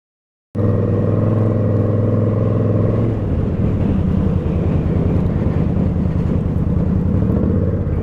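An Indian Scout Bobber motorcycle is being ridden. The engine comes in abruptly as a loud, close, steady rumble, and its tone shifts partway through to a rougher, pulsing drone that continues without any speech.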